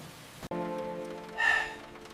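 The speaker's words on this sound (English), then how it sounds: "It is raining hard today." Heavy rain pouring steadily on a surface, a constant dense hiss with a brief swell of louder splashing, no voices.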